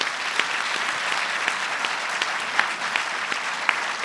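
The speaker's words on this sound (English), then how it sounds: "Let's give them all a round of applause." An audience at a government announcement event in Brooklyn gives sustained, even applause, a dense crackle of many hands clapping at moderate distance with a few sharper claps standing out.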